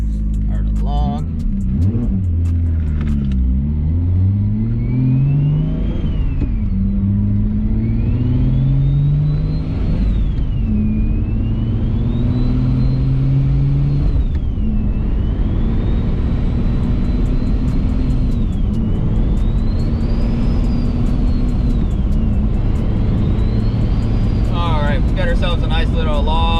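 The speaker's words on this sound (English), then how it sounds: "Just normal driving up through the gears" A single-turbo BMW 335i pulls up through the gears in normal driving, its engine note rising steadily, dropping at each upshift and climbing again, loud and close from inside the car, with a voice talking over it.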